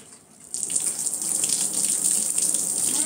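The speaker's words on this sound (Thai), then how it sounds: "ขออนุญาตล้างมือ" A faucet runs while someone washes their hands, starting abruptly after a brief quiet moment and then hissing and splashing steadily at close range with no talk.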